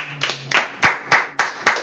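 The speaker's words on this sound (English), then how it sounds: "I clap for this woman" Six sharp hand claps, close and loud, land in a steady rhythm with no talking, applauding a woman.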